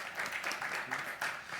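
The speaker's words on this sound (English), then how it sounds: "Let's give Shreya a round of applause." A brief burst of audience applause greets the CEO of Partiful at an interview event, a fairly faint, dense patter of many hands clapping together without any voices.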